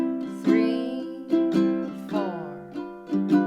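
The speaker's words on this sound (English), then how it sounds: "but if you want to try a waltz strum, it'll sound like this." Ukulele strummed in a swinging waltz pattern for Clementine, with plucked chord strokes grouped in threes, about six clear accented strums ringing out close and alone.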